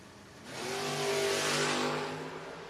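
A convertible Mustang launches at a drag race, its engine swelling from a low idle into a loud, sustained roar that peaks and holds for about two seconds.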